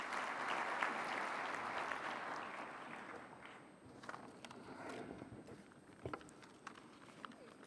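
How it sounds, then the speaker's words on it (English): Audience applause breaks out in a hall at the opening ceremony of a leaders' summit, loud and dense at first, then thinning into scattered claps and fading over several seconds. "Let's give him a round of applause as he comes up."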